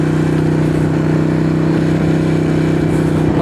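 A Harley-Davidson 48 motorcycle rides along, its V-twin engine rumbling loud and close in a steady, throbbing drone with faint rushing air and no speech.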